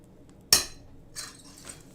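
Stained glass scored and snapped along the score line with running pliers: one sharp, bright crack near the start followed by two fainter tinkling clicks, close and distinct against a quiet background.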